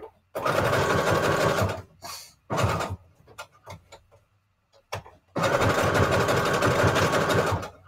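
A sewing machine stitches fabric scraps in two long runs of steady, loud mechanical whirring, separated by short bursts and clicks during a pause.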